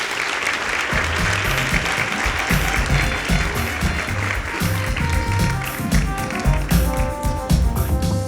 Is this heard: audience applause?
yes